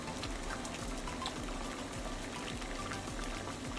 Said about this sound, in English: boiling water still fascinates me